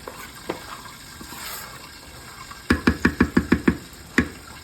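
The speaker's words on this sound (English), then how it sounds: "Then I'm gonna stir it together again." A spoon stirs jollof rice in a cooking pot with a quick series of about seven sharp scraping knocks, followed by one more knock, over a faint background sizzle.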